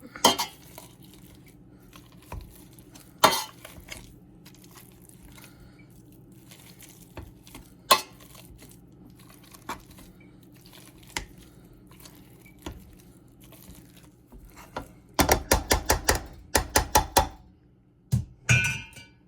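Boiled potatoes being mashed with butter and salt in a pot: sporadic metal knocks and scrapes against the pot, then a quick run of rhythmic clanking strikes near the end, close and fairly loud with no talk.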